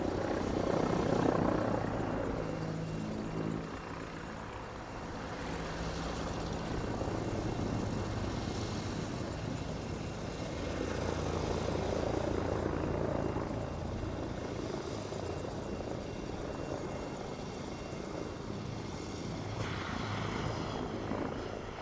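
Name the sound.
T-129 ATAK attack helicopter flying at Paris Air Show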